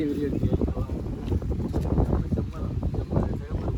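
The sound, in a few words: strong wind in a mango garden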